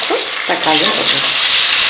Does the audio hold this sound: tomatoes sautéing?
yes